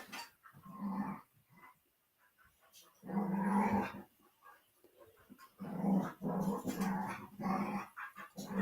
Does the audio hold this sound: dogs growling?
yes